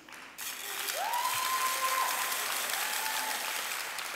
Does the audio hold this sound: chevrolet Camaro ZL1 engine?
no